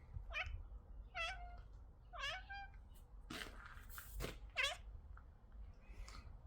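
Cat meowing inside a cat building at a shelter or farm, with roughly five distinct rising meows spaced across a few seconds, close and fairly clear over low background rumble and some rustling.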